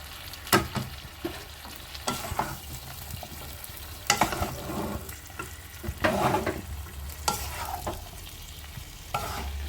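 Fried mixed vegetables are stirred with spices in a pan. A spatula scrapes and clatters in irregular strokes over a soft, steady sizzle, close up, with no voices.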